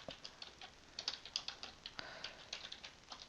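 Quiet keystrokes on a computer keyboard while entering spreadsheet labels, with an irregular run of soft, close clicks and a few slightly sharper taps and no speech.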